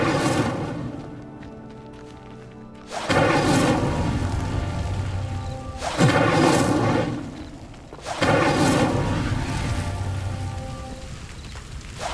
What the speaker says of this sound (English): Clearly, all three of these pyres are meant to be lit. Incendio!